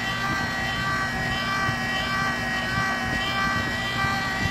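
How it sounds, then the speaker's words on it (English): A powered chamfer trimmer cutting 308 brass cases, a steady loud motor whine with tonal hum and a continuous grinding drone, close and unbroken, with no talk. "trimmer is pretty efficient, especially with the amount of brass it's got to cut through"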